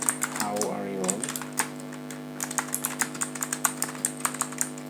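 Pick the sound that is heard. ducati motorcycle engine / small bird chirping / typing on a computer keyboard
typing on a computer keyboard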